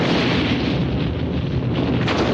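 A thrown bomb explodes inside a hospital and sets it ablaze, heard as a loud, dense, continuous roar of blast and raging fire that fills the whole stretch with no talking.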